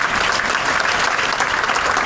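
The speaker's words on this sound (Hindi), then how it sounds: "इसमें तो हमें ताली बजानी चाहिए अपनी एयरलाइन के लिए।" A live comedy show audience in Dubai breaks into loud, sustained applause, a dense patter of many hands clapping close by without pause.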